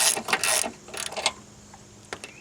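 Bolts being worked loose with a ratchet during a Pontiac Grand Am engine teardown, several close metallic clicks and clanks in quick bursts that thin out to a few faint taps.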